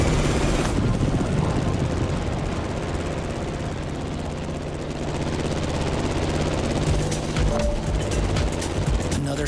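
An airplane engine roaring through an extremely sharp turn in the racing game The Crew Motorfest, a loud, dense, unbroken drone that holds steady and close for the whole stretch, with no talking.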